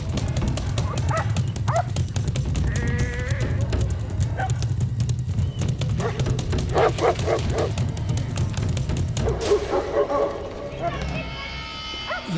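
Livestock guardian dogs bark an alert near sheep in short bursts over a rumbling, noisy outdoor background, with a voice talking and some yelps near the end.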